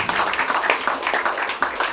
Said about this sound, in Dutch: Mag ik een applaus voor Sander Janssens?